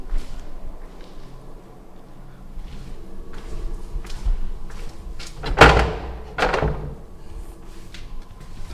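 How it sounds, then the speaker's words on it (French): A door slams hard in a quiet indoor room: faint knocks and rustles first, then two loud, close bangs about a second apart, each followed by a short reverberant decay. "une porte qui pourrait faire ce bruit, claquer"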